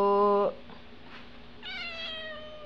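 Chunyang the cat gives a clear, close meow, then a short pause, then a second drawn-out meow in a quiet room.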